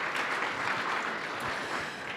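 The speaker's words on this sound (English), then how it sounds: "a huge applause" A crowd at a university entrepreneurship venture competition applauds, a dense, loud and steady wash of clapping throughout.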